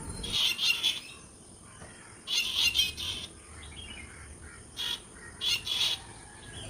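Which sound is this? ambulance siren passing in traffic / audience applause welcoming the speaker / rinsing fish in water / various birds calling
various birds calling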